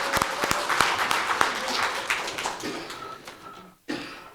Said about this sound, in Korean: 한무경 의원님께 큰 박수 부탁드립니다